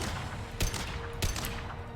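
Gunfire in the Mass Effect 2 video game, two sharp shots about half a second apart over a dense, steady background of game noise.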